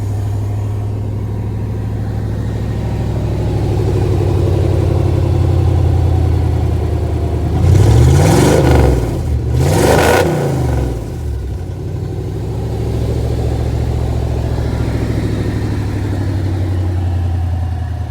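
1989 Chevy K1500 Z71 pickup V8 cranking over and firing, then settling into a steady loud idle with a brief rise in revs, close and alone without talk.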